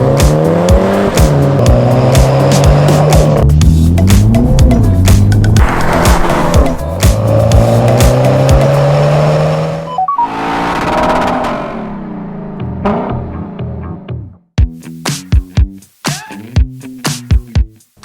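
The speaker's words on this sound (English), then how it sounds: "This is the Mini Cooper Countryman" A 2023 MINI Countryman John Cooper Works drives past loud and near, its engine rising and shifting through gears with tire noise, then fading before short sharp bursts close out the pass.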